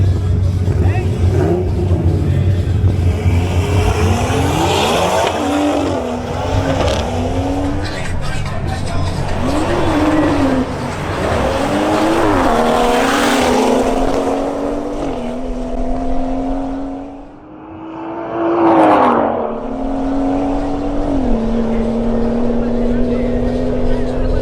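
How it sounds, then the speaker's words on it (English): Two BMW M240i cars in a drag race, engines revving hard with rising gear-change sweeps, loud and close, dipping briefly before another strong acceleration, with an announcer talking over the roar. "Next, we have a duel between two BMW M240i"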